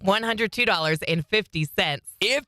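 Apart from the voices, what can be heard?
No everyday noise stands out behind the speech.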